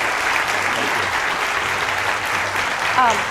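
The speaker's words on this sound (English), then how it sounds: "Please give him a big round of applause." Steady audience applause fills a hall after a morning chat event, dense continuous clapping with a voice briefly audible near the end.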